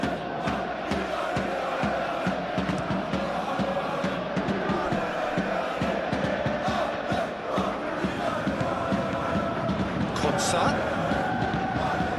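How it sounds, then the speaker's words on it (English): A large video game stadium crowd at a football match roars and applauds continuously, a dense wash of cheering and clapping with occasional louder bursts. "it's applause all round us here"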